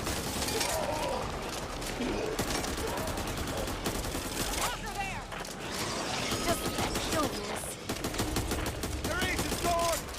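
Dense, chaotic gunfire from the video game No Hope, with overlapping rapid shots and mechanical clatter running continuously and loudly throughout, voices faintly mixed in.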